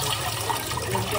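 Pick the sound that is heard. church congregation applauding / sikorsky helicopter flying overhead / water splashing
water splashing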